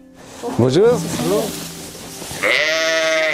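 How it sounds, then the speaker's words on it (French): Sheep, recently lambed ewes in a sheepfold, bleat in several wavering calls, loud and close, with a voice briefly greeting over them. "là, c'est des brebis qui sont agnellées il y a 2 semaines"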